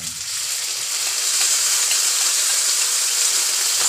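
Corned beef and cabbage sizzle in a pan while being stirred and mixed in a home kitchen, a continuous bright hiss with faint scraping, steady and close, no voices.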